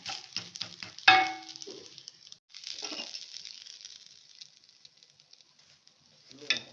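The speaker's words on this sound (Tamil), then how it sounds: "திருப்பி போட்டு இன்னும் ஒரு மூடி வச்சு நல்லா இன்னும் ஒரு 5 நிமிஷம் வேகட்டும்" Adai dosa made with toor dal cooking on a pan under a lid: soft crackling sizzle with a sharp burst near the start, fading to a quiet hiss and rising briefly again at the end, no talk.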